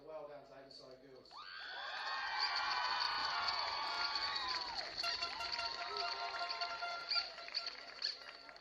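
Crowd at a girls' schools premiership football final applauding and cheering, a sustained mass of clapping and shouts swelling after a public-address voice and continuing to the end.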